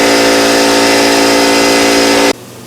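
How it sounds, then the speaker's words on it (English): Harbor Freight air compressor running loud and close with a steady motor whine and buzzing drone that cuts off abruptly after a couple of seconds, leaving quiet. "before the Harbor Freight compressor kicked on"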